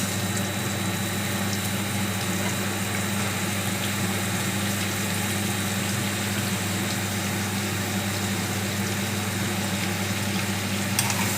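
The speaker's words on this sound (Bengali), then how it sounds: "এবার আমি যে লাউটা কেটে ধুয়ে রেখেছি সেটা এতে দিয়ে দিচ্ছি।" Chopped bottle gourd hits hot oil seasoned with cumin, green chili and bay leaf for a Bengali lau chingri, and a steady, even sizzle hisses on without pause while it is stirred.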